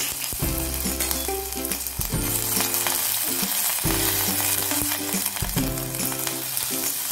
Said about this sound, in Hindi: ये मेरा तेल भी गर्म हो गया है। अब हम इसमें सबसे पहले ये ग्रेट करी हुई अदरक को डालेंगे।